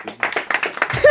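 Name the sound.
audience applause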